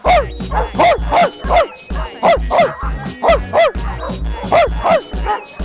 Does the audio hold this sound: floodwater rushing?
no